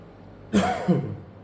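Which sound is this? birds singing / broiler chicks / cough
cough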